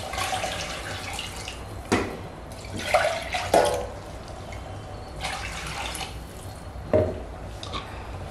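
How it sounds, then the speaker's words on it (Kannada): Water pours in several short bursts into a cooking pot while a biryani is being made. The splashes are separated by quiet gaps, with a soft trickle and drips in between. "ಸೊ ನಾನು ಇವಾಗ ನೀರು ಆ್ಯಡ್ ಮಾಡ್ತಾ ಇದ್ದೀನಿ."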